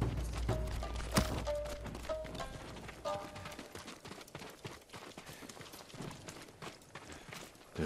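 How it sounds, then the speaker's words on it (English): Samurai horses' hooves in Ghost of Tsushima, a PS5 game: irregular clip-clop steps at a stable, mixed with mechanical clicks and a few tonal game sounds, moderately loud throughout. "They're samurai horses."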